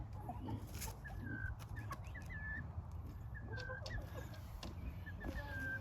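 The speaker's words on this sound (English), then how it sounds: "The roosters showing them who's boss." Chickens in a backyard flock cluck and murmur with short squawks amid a rooster's presence, quiet and close over a low steady background, with faint voices nearby.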